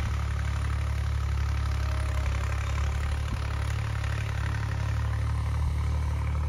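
A tractor engine running on a farm field, a loud, steady low rumble with a constant idling chug and a faint rattle, no talking over it.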